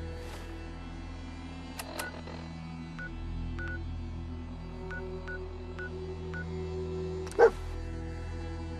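In Fallout 4, a dog gives a single short bark late in the moment. Before it comes a series of soft electronic beeps and clicks over a low, steady game hum.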